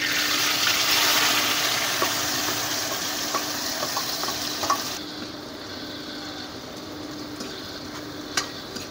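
Chopped tomato and onion frying in a pan inside a truck cab, with a loud sizzle and stirring scrapes that quieten partway through, then a few sharp utensil clicks over a softer fry.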